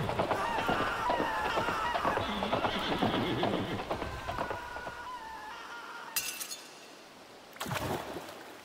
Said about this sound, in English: Ah, you sent your damn horse down into the bowels of my ship.